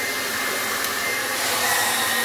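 A hot air blower runs steadily with a constant loud whooshing hiss while heating a price sticker on a 1988 Teenage Mutant Ninja Turtles Donatello toy, with no talk.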